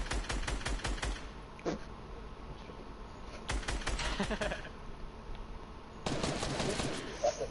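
Rapid automatic gunfire in the Fortnite video game, repeated bursts of fast cracking shots separated by brief pauses, loud and close, with no speech.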